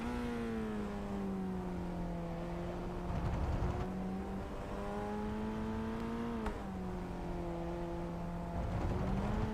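Race car engine at full throttle on the Okayama circuit, a steady loud drone with rising pitch, a brief dip around a shift, then climbing again, heard close from inside.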